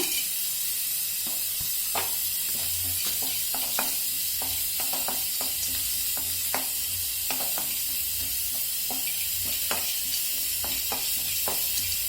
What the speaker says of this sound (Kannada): ಜೊತೆಗೆ ಜಾಕಾಯಿ ಬಿಸಿ ಮಾಡ್ಕೊಳ್ಳೋಣ.